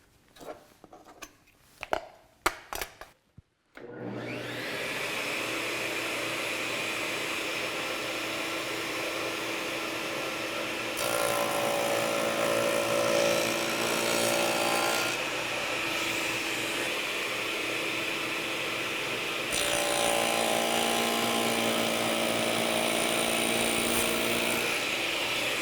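Table saw cutting a tenon cheek into a wooden board: a few clicks and knocks, then a loud steady motor whine running over twenty seconds, swelling louder during passes through the wood.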